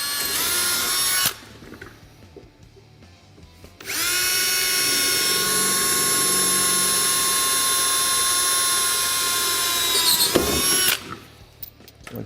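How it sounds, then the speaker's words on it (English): A power drill drilling into the metal frame of a Honda Talon 1000 whines loudly and steadily for several seconds, with a brief burst at the start and the motor spinning down near the end. "and then just drill right into the frame here."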